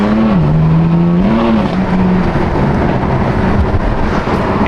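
A stock BMW M4 Competition engine with a loud, steady, raspy drone that swells and dips slightly as the revs change, heard close without anyone speaking.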